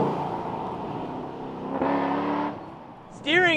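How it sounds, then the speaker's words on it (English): A VE V8 car with a six-speed manual on a backcountry road, its exhaust note swelling as it accelerates through the revs, then easing off, heard from inside the cabin with a brief chirp at the end. "it's pushing this nice power, 6-speed manual, V8 exhaust, it's just such a sweet driving car."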